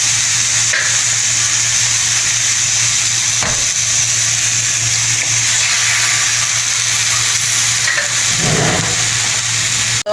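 Eggs frying in a pan with spinach, a loud steady close sizzle and crackle throughout with a low constant hum and a couple of faint scrapes.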